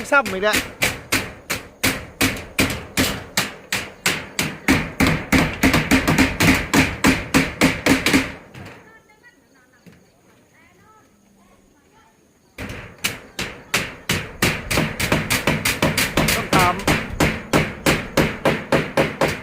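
Steady, rhythmic hammer blows strike repeatedly at close range, pausing for a few seconds of near quiet before the regular pounding resumes.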